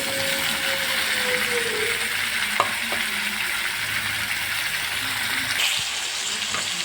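Chopped tomatoes land in ginger paste frying in a pan for tomato curry, giving a steady broadband sizzle throughout with a few scraping stir strokes and a brief clatter near the end.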